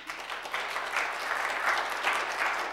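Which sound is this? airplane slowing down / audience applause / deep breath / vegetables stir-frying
audience applause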